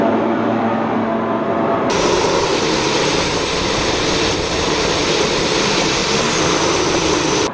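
Aircraft engine running at roughly half thrust during a de-ice boot test, a loud steady roar with a broad hiss that jumps in brightness after a couple of seconds and then holds constant.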